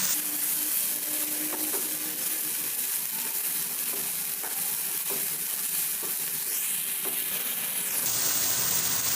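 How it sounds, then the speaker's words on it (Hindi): Spices and ingredients frying in a pan, a steady loud sizzle with stirring scrapes and a rising hiss of steam toward the end, no talking. "अब ये सारी चीज़ें हमारी फ्राई हो चुकी हैं"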